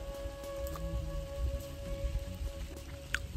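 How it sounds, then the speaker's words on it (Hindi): Steady rain patters on a surface nearby, with scattered louder drops over a low background hum and a faint tone. "और बारिश होने लग गई"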